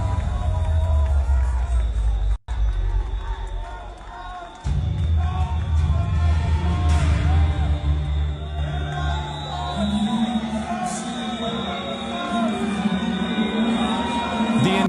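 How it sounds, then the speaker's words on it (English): A huge arena crowd at Eurovision 2025 roars and boos in a sustained, dense wall of noise, loud and continuous with one brief cut near the start. "The entire arena was booing, making noise, not in a positive way, but in a negative one."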